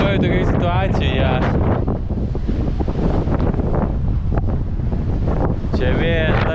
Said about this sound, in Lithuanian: Čia vėjas dar belė koks.